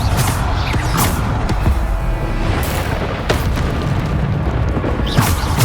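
Repeated heavy blasts from the Bombarda explosion spell in Hogwarts Legacy, loud booms bursting every second or so over a dense, continuous roar of combat noise.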